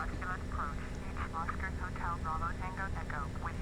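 Douglas DC-3 piston engines at full takeoff throttle in Microsoft Flight Simulator X make a steady, loud, droning hum throughout, with a voice talking over it.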